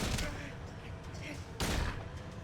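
Gunfire in the video game Silent Hill 2, heavy shot blasts at the start and again partway through, loud and close over a dense rumbling game background.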